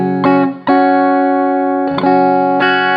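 Phred Instruments Blade electric guitar chords ring out clean and bright through a Pigtronics Class A boost, struck twice and left to sustain, with a slightly boosted, fuller edge to the tone.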